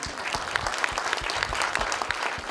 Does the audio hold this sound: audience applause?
yes